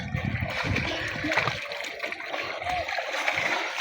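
Children swimming and splashing in water, with irregular splashes and gurgles close by, continuous through the clip, and faint voices in the background.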